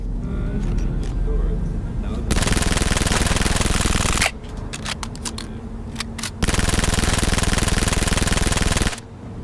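In Cyberpunk 2077 Phantom Liberty, a heavy-recoil gun fires two long, loud sustained bursts, separated by a quieter gap with scattered sharp clicks.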